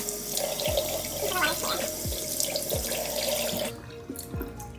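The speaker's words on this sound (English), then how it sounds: "drain out the water" Water from a sink where makeup brushes were washed runs and gurgles steadily from close by, with a few low thumps, before cutting off into quieter trickling.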